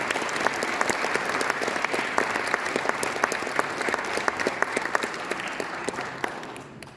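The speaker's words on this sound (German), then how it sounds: "bitte ich jetzt um einen ganz kräftigen Applaus" An audience at a senior citizens' art event gives vigorous, sustained applause, a thick wash of many hands with sharp individual claps standing out, tapering off in the last second.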